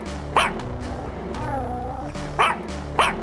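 A cartoon dog in a Bengali animated story barks three times, sharp and close, spaced out over a steady background of music and ambience.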